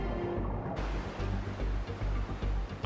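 Turbulent river rapids churn and bubble with dense, continuous rushing water, loud and close, with no voices.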